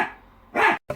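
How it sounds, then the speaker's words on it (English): A dog barks indoors nearby during work on a Porsche Boxster 986 ignition swap: a drawn-out whine or yip followed by a short, loud bark and a quick clipped second bark. "Sorry about the dog."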